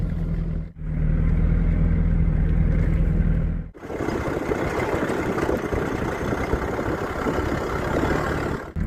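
Vehicle rumbling over a heavily corrugated dirt road on tyres lowered to about 1 bar, a loud continuous low drone with a brief dip partway through.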